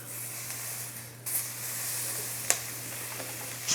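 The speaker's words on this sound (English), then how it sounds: "Let's go cook the shrimp." Skewered shrimp sizzling as they cook, a soft steady hiss with a few sharp pops and crackles, heard up close with no voices.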